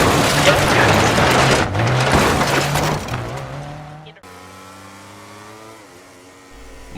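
A rally car in Dirt 4 drives hard for about four seconds, its engine loud and steady over a rushing wash of gravel or rain. It drops away abruptly into a quieter, lower engine drone.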